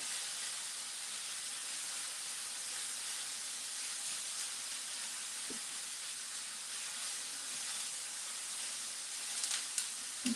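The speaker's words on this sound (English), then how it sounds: "Sauteing these boys right here." A pepper medley sizzles in olive oil in a pan, a steady soft hiss with a few faint clicks and knocks near the end, no talking.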